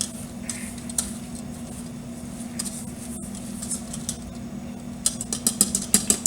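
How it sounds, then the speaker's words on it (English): A whisk mixing cake batter with grated carrots, zucchini and apple in a bowl, soft scraping and swishing over a steady hum, turning into quicker, louder taps near the end. "I'm going to take our whisk, and again, all I'm trying to do is mix all of our ingredients equally"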